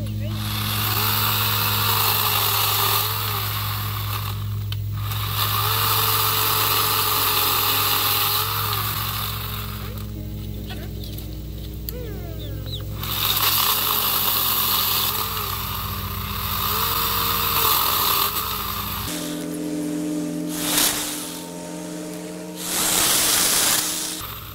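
A cordless chainsaw runs steadily while cutting low-hanging branches under trees where chickens shelter, its motor whine rising and dipping with the cut, with a brief stop around two thirds through and a changed tone near the end.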